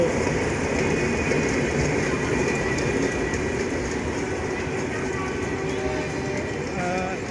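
A train rumbles steadily nearby at a station platform, a constant loud roar with faint wheel squeals toward the end, and voices barely audible underneath.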